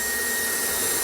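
Lux-Modellbau model railway vacuum cleaning wagon running on the track, a constant close loud whooshing whine of the small suction motor, steady throughout.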